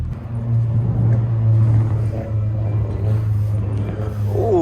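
Ford Mustang engine rumbling nearby with a steady deep low drone that holds for several seconds, loud and continuous with no talk over it.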